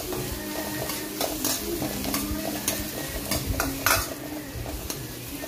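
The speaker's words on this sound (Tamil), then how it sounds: "இதெல்லாத்தையும் சேர்த்து நல்லா வதக்கிக்கோங்க" Curry leaves and green chilli sautéing in a pan with oil for a chicken gravy, a steady close sizzle broken by repeated scrapes and clinks of a spoon stirring against the metal pan, with no talking.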